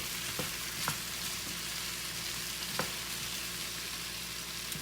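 Food cooks in a pan for homemade pizza, hissing in a dense, steady sizzle that fills the whole stretch, with a few faint clicks of stirring near and no one talking.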